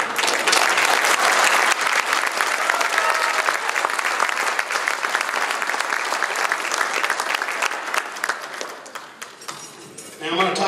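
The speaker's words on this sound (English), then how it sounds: "If you guys want to applaud for somebody, applaud for this table because that's who puts this thing on." Banquet audience claps in loud, sustained applause that fills the room, fading slightly toward the end before a final burst.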